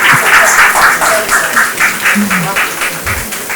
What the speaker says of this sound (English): Applause, everybody.